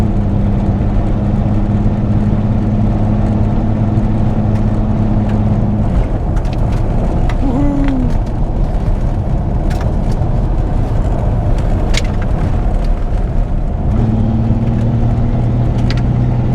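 A Datsun 280Z barn find, off the road for 18 years, rolls along with a steady engine drone and road rumble, the engine tone dropping out mid-run and returning, with scattered rattles and clunks throughout.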